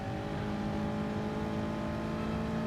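Race car engine from the GT Sport racing game, heard on board during a lap, holding a steady, loud droning whine with no talk over it.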